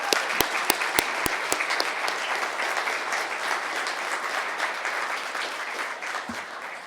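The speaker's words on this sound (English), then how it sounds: "How about one round of applause for all the recipients who've been recognized?" A hall audience gives a sustained round of applause for staff award recipients at a city manager awards event. A few sharp, close claps open it before the sound settles into an even, full clapping wash.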